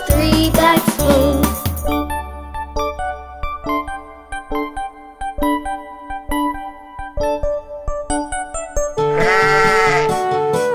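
Sheep bleat in an animated 3D nursery rhyme: a burst of bleats opens, bouncy plucked music with jingling notes follows, and another loud bleat closes the passage.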